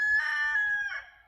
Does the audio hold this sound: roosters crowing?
yes